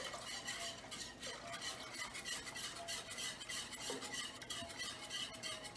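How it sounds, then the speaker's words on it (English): Cheese sauce for gourmet mac and cheese being stirred in a pan as it thickens with milk, a steady close scraping and swishing of utensil against metal with faint sizzling underneath, no voices. "our sauce is already starting to thicken up. All right. Keep stirring this."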